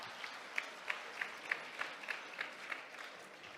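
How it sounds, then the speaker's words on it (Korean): An audience at a political gathering for lawmaker Yoon Sang-hyun claps in a steady unison rhythm, each beat sharp and regular, sounding quiet and somewhat distant. "큰 박수"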